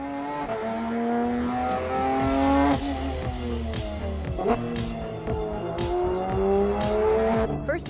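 A Porsche 911 GT3 Touring with a naturally aspirated engine accelerates hard on mountain roads in Spain, close and loud, its rising engine pitch climbing repeatedly through gear changes.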